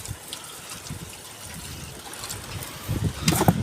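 Water is bailed out of a small fishing boat in bad weather, soft sloshing and splashing that grows into louder pours and scoops near the end.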